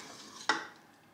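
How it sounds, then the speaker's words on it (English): Spoon stirring sour cream and bacon pieces into sheep's cheese dumplings in a pot, a single short scraping clink against faint background hiss. "Put some cream, sour cream on top, give it a good stir"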